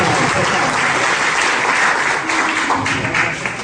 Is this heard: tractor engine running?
no